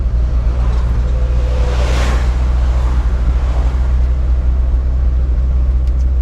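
A car labouring up Spur Hill in Manchester, Jamaica, in low gear: a heavy, continuous low engine drone from inside the cabin with wind rush over it, steady and loud throughout.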